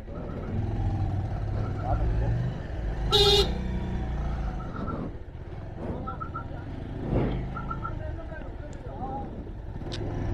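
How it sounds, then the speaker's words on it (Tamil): A vehicle approaches along a road near Kodaikanal with engine rumble and a few short horn toots, moderately close, while people talk on a bike ride. "இங்கே வர வண்டி வருதே."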